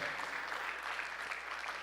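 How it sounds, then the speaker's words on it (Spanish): Congregation clapping in church during a Spanish-language service, a dense steady wash of applause held at even loudness throughout with faint voices mixed in. "¿Le da palmas fuerte al Señor usted, hermano?"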